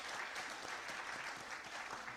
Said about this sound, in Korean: 우리 유년부, 초등부 그리고 우리 선생님들에게 우리 격려의 박수 보내주시기를 바라겠습니다